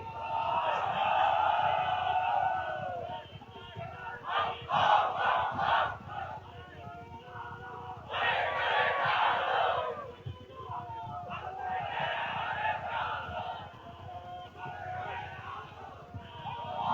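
Crowd at an Islamic sermon gathering shouting the takbir chant in unison, with loud massed bursts of voices that rise and fall several times, answering a leader's call.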